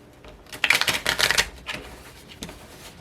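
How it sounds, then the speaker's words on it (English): Oracle cards being shuffled and pulled from a deck during a tarot reading, a close burst of quick papery riffling and flicking that trails off into a few lighter card snaps. "let me pull a couple of additional oracle cards for you."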